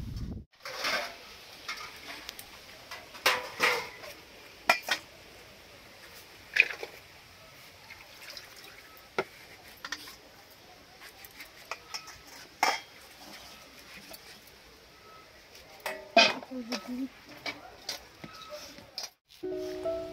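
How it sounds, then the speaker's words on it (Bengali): A knife chops through a pumpkin on a board in a home kitchen, irregular close knocks and scrapes with clinking dishes around, faint voices now and then. "তো এখন কুমড়ো কাটছে আমার মা।"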